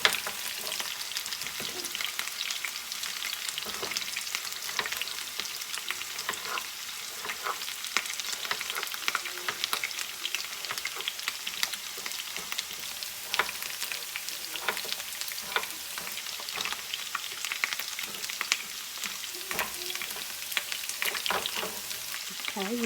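Cut potatoes fry in a full pan just above medium heat, a steady sizzling hiss with frequent small crackles and occasional stirring, close and continuous for a long stretch.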